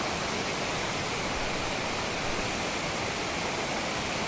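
Benki Falls waterfall in the rainy season pours out a constant, dense roar of rushing water that stays loud and steady throughout, with no voices.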